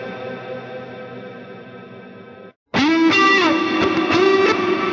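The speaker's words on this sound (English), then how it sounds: "So a very long reverb shimmer applied only to the center" A sustained, bright shimmering reverb wash from the Biverb plugin, applied only to the mid (center) channel, hangs under distorted guitar tones, a dense sound with a short dropout before the louder, ringing second part.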